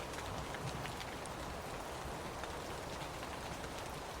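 Steady rain falls in an even, continuous wash of patter and hiss, moderately quiet and unbroken throughout, with no speech.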